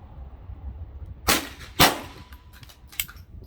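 Three sharp reports from a GSG 1911 .22 pistol fired on a range, spaced unevenly over a few seconds, crisp and fairly close against low background rumble.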